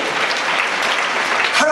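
A church congregation claps in a short, brisk round of applause during a sermon, dense and close, with a voice briefly audible near the end.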